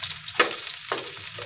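Onions of mixed cut sizes hit a smoking-hot pan while an egg omelette is being made, giving a crackling sizzle with a couple of sharp spatters over a steady hiss.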